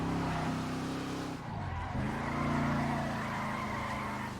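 A race car in a driving game brakes hard through a turn, its steady engine drone dipping and then climbing again as the tires scrub and squeal, loud and close throughout.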